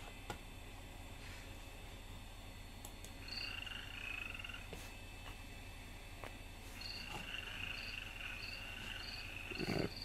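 Frog croaks and chirping, insect-like calls from an old Macintosh video game, repeated bursts over a steady noisy ambient bed, fairly loud with no talking.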